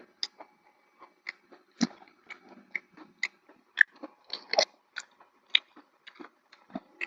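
Crunchy Chowking fast food is chewed close up, with a quiet, irregular run of sharp crunches and bites and no talking.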